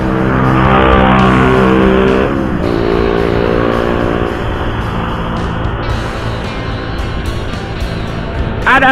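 Motorcycle traffic with a loud aftermarket racing exhaust, heard from a rider on the road: a loud, close engine roar that peaks early, then fades and settles into lower, busier traffic noise, with several brief whooshes of passing vehicles.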